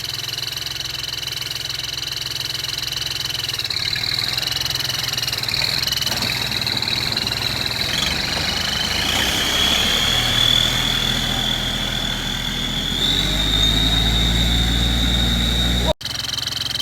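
A car's stock exhaust pipe, with no muffler removed, gives off a high steady whistle over a rumbling idling engine, and the tone rises and grows stronger as revs climb toward the end before cutting off abruptly.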